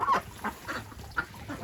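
Ducks in the rain, upset at the lack of mud, give a run of loud honking quacks in quick succession, close by, with no talking.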